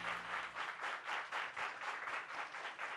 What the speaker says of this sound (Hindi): जोरदार तालियां हो जाए कल्याणी के लिए।